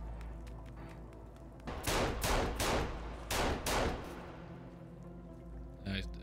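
Rapid gunshots in the survival game Sons of the Forest, five or six sharp shots fired in quick succession over a steady low background rumble, followed by a faint click.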